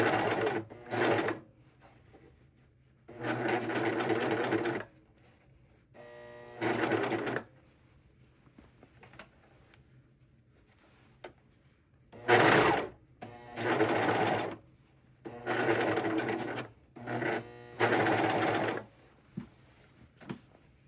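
A sewing machine stitching shirt sleeves past the notches runs in bursts of about one to three seconds, loud and close, its rapid mechanical whirr stopping and restarting with quiet pauses between runs.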